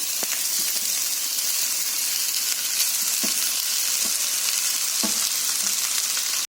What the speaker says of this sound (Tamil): இப்போ நான் பாயில் பண்ணி வச்சிருந்த அந்த சாதத்தை ஆட் பண்றேன்.